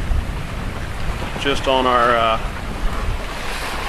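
Steady rush of ocean waves and wind against a sailboat underway, a constant broad roar with a voice speaking briefly over it.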